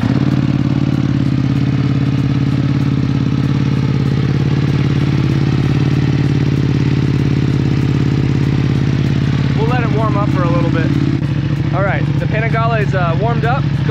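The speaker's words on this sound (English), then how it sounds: "I wanna actually hear you start this thing up." A 2024 BMW M1000R motorcycle idling with a steady, throbbing mid-pitched engine rumble that fills the whole stretch; the start-up is not distinct, and voices talk over the engine near the end.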